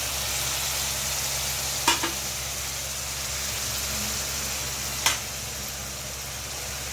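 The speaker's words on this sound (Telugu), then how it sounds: "టమాటా పేస్ట్ కూడా వేయాలి." Tomato paste fries in a pan for egg pulusu, a soft steady sizzle under background hum, broken by two sharp clicks of a utensil.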